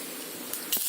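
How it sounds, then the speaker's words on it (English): Mustard seeds hit hot oil with a soft hiss that jumps into a brief sharp crackle and spatter near the end, all very short and close. "Oil is hot. We'll put some mustard seeds in it."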